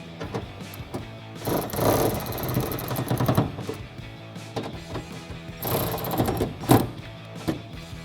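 A 10mm swivel socket on a ratchet tightens bolts while a rear spoiler is fitted to a 2015-2023 Mustang. Close, busy mechanical clicking and rattling comes in repeated bursts, with no speech.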